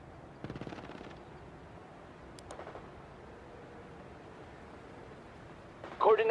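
Machine-gun and rifle fire in the real-time strategy game World in Conflict: short, faint bursts of rapid shots at a distance, separated by quiet battlefield hiss. A louder burst with a voice arrives at the very end.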